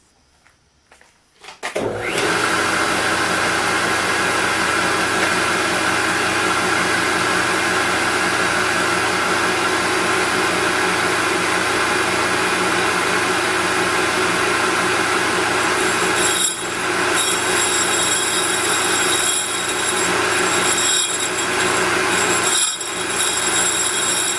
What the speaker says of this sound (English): I can use this handheld to just dress the wheel.